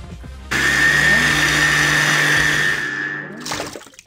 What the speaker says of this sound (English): I'm gonna add strawberries and raspberries into a blender.